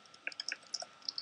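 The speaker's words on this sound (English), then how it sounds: "I'm just typing things in the chat, and I'm just deleting them after." Light, quick clicks of typing on a computer keyboard, about a dozen soft taps in an irregular rhythm, close and faint against a quiet background.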